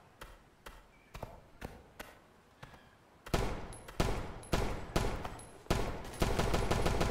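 Gunfire in the shooter BRM5: sharp, spaced shots ring out in a steady rhythm, fairly quiet at first, then much louder and more rapid from the middle on, like bursts from a rifle at close range.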